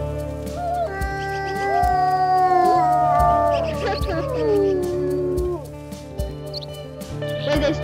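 Multiple wolves howl together in long rising and falling tones in the video game WolfQuest, over a repeating synthetic beat, with a few rhythmic clicks and thumps in the background.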